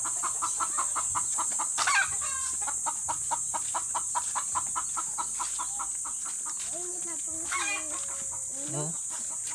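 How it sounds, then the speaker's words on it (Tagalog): Chickens cluck in a steady, close rhythm with a rooster crowing partway through, over a constant high-pitched hiss of insects. "At mabubulabog ang sisiw."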